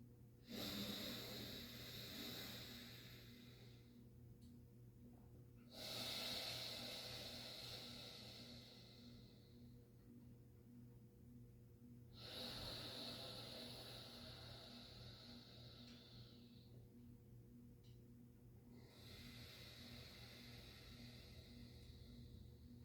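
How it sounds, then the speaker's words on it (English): Slow alternate nostril breathing during a yoga back pain relief session, with long airy inhales and exhales through the nose alternating in a steady rhythm, close and soft over a faint background hum. "Continuing with this alternate nostril breathing at your own pace."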